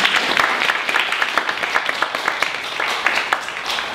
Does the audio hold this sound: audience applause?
yes